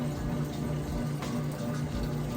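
A Whirlpool Estate washer drains water in a steady, continuous rushing flow, close and unbroken, with a low pump hum underneath.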